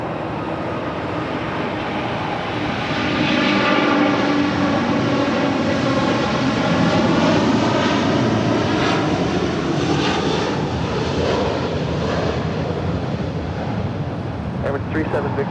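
Cargo jet, a heavy aircraft, taking off from runway 25 left at LAX: a loud, sustained engine roar and rumble that builds and holds steady throughout, with shifting tones as it passes.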